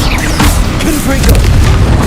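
A Confringo explosive spell blast in Hogwarts Legacy, a loud sustained booming burst with crackling debris that fills the whole moment, dense and close, with a voice calling out over it.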